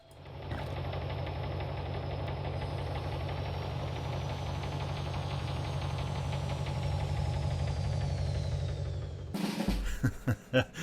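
The Contaminant, a vehicle in the video game Phoenix Point, motors along with a steady, loud engine drone and knocking rumble that holds for about nine seconds, then cuts off into a few short thumping knocks.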